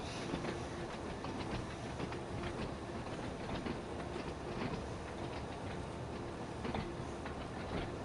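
Steady cab-side rumble of a Class 483 EMU cruising in Train Sim World 2, with light clickety-clack of wheels over rail joints at an even pace and no one speaking.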